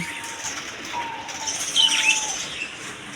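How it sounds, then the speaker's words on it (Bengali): Diamond doves kept in an aviary coo softly alongside light chirping from other caged birds, a quiet, steady birdroom ambience. "এদিকে আছে ডায়মন্ড আপ ঘুঘু পাখি"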